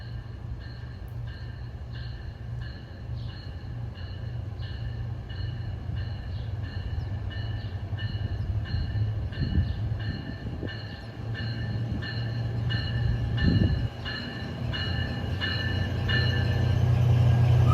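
An NJ Transit train led by an ALP-45DP locomotive approaches, a low diesel rumble building steadily with a regular rhythmic ringing of a crossing bell or signal above it, growing louder toward the end.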